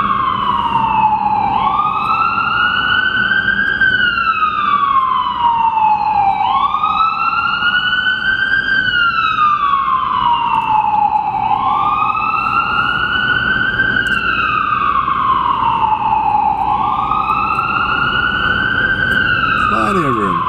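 An ambulance siren wails in slow, repeated rising-and-falling cycles, loud and steady, amid highway traffic on I-395 southbound in Washington DC, with a low vehicle rumble beneath it.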